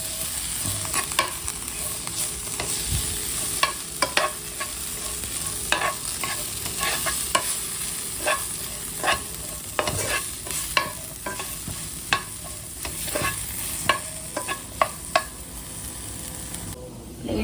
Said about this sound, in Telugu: ఆల్మోస్ట్ ఫ్రై అయిపోయింది.